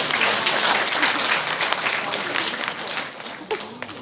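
An audience at a lecture applauds, dense steady clapping from a room of people that starts strong and gradually thins toward the end.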